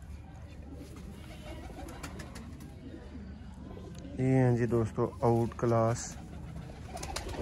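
Pigeons coo in a short run of deep, throaty rolling calls close by, heard over someone speaking and general background noise.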